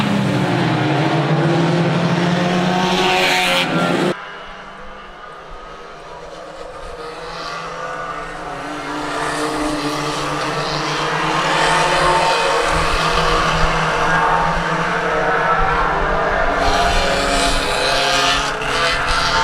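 Race cars roar through the pits turn at Swaffham Raceway, a loud, continuous engine drone with rising and falling revs as several cars pass close by, one sharp drop in level partway as a car moves away.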